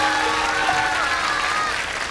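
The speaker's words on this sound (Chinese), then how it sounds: "掌声送给他。" Audience applause greeting a lecture guest introduced on stage, a steady wash of clapping that holds at an even level for about two seconds before easing slightly.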